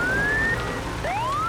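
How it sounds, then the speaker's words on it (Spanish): Cartoon fire truck siren: a loud rising electronic wail that repeats, up close and alone. "Oigan, son Fiona, camión de bomberos, y Dandy"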